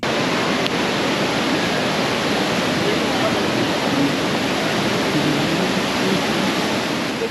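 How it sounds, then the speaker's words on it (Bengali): The rain-swollen Parvati river rushes past the gurudwara at Manikaran in Himachal Pradesh, a constant loud roar of turbulent water that fills the scene evenly from start to end. "গুরুদ্বারার পাশ দিয়ে বয়ে যাচ্ছে পার্বতী নদী, আর বৃষ্টি হচ্ছে বলে স্রোত আরো বেশি বেড়ে গেছে। কি বিপুল গর্জন জলের, প্রবল জলরাশি।"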